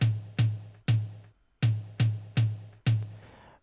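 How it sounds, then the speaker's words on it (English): Seven punchy tom drum hits from a tom sample in FL Studio, each with a strong low body and quick decay, struck in an uneven rhythm with a short pause midway, clean and close with no talk. "So this is how the tom sounds like."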